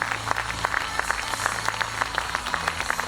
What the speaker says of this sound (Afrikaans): Geef Vader 'n harde handeklap.